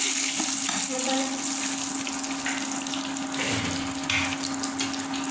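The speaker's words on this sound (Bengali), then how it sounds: "পেঁয়াজ ভাজা এই যে" Onions frying in a pan give off a steady, close, hissing sizzle with a sustained hum underneath and a few soft stirring scrapes.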